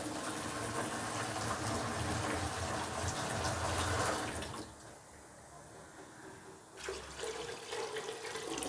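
Water runs steadily into a pot of chana dal for several seconds, a close rushing pour that stops, then a shorter splash resumes.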